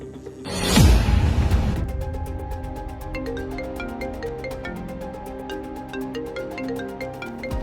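A mobile phone ringtone goes off at home as a son calls: a short whooshing swell, then a bright, steady melodic tune with a regular repeating beat that plays on clearly with no talking.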